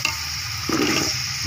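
Peas drop into a hot pan with a brief burst of sizzling, then a steady fry continues, close and moderately loud.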